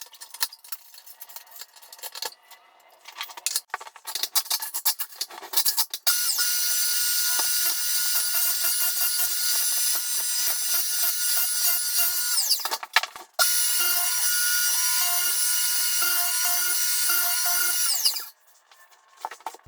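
A rented floor drum sander working a practice piece of hardwood, starting with a few short bursts and then running as a loud, steady grinding roar that cuts off briefly once before dying away.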